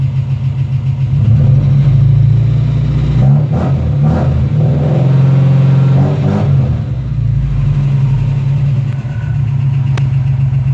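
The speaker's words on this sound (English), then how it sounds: "Maybe I need to turn my idle up a little bit." A truck engine with a newly installed exhaust idles loudly and steadily, its deep rumble swelling and dipping briefly mid-clip before settling back to an even idle, with no voices.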